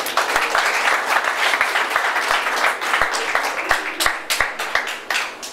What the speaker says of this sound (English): join me in welcoming Mr. Gbenga Aloto by giving a huge round of applause